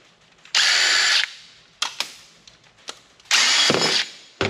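A power driver spins out Torx screws from the drive caddies of a Dell PowerEdge server, with two longer whirring bursts separated by short blips of the motor and faint clicks, close and without talk.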